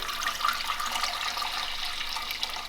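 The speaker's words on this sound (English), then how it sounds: "Now I'm putting it in the pot, and I'm just adding some warm water." Warm water poured into a cooking pot for tamales, a steady close splashing pour that runs unbroken for a few seconds with no talk.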